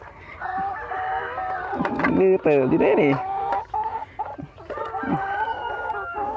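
Egg-laying hens clucking around a coop while a rooster crows loudly nearby, the crow rising and falling mid-clip, with someone talking over the birds.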